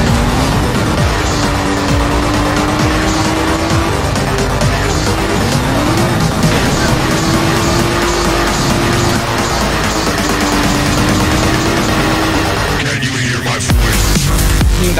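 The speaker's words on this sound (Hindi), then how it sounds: "मैं इस गाड़ी को माउंटेन पे ही चढ़ाने वाला हूं" A Toyota Fortuner SUV climbs a mountain in a video game, its engine droning loud and steady with rising and falling pitch throughout, close and alone without talk.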